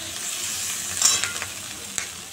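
Carrot and capsicum curry frying in a pan, a soft steady sizzle with a few distinct scraping stir strokes, no talking.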